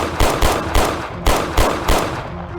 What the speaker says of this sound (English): Then gunfire erupted.